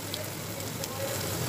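Fried hilsa fish pieces go into a thick, well-cooked gravy, which answers with a close, dense and continuous sizzle for a brief moment.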